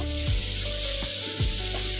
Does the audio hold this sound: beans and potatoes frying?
yes